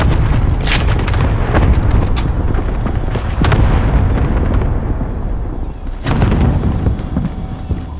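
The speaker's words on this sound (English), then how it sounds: "Allied cluster strike inbound." Cluster airstrike blasts in Call of Duty: Modern Warfare, a string of heavy, loud booming explosions rolling one after another, with sharp cracks at the start of each burst and rumbling decay in between.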